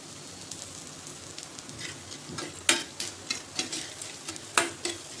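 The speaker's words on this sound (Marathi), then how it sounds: "थोडंसं तेल घालायचं म्हणजे हे डाळवं आपलं छान भाजलं गेलं पाहिजे." Dalia roasting in a little oil in a pan gives a soft crackling sizzle punctuated by irregular sharp scraping and clinking stirring strokes, close and without speech.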